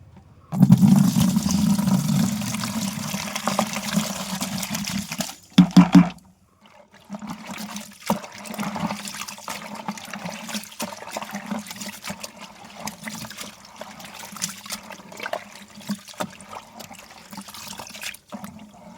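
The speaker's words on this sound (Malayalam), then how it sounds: "നമ്മൾ ഇത് ഒരു ബക്കറ്റിലേക്ക് ഒഴിച്ചു കൊടുക്കാനായിട്ട് പോകണം കേട്ടോ" Onion-soaked water being poured into a bucket, a steady close splashing stream broken by a short pause near six seconds, then continuing as a softer, uneven trickle.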